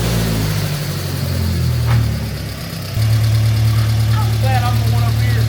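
B18 engine in an EF wagon runs loud and close, droning then jumping to a steadier, stronger hum as it pulls off in first gear on a test drive, with brief speech over it.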